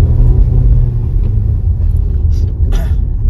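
A vehicle climbs the narrow Gata Loops mountain road toward Pang, its engine rumbling loud and steady up close, with some wind buffeting and a few brief knocks near the end.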